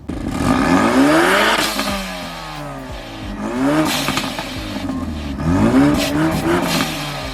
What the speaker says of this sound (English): This is an AWE catback exhaust